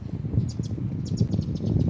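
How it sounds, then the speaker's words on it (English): Birds chirp in short, faint high calls scattered through the clip over a steady low rumble of wind in a garden on a cool, windy morning. "Hear the birds?"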